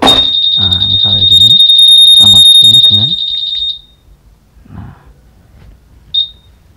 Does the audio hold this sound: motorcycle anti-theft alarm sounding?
yes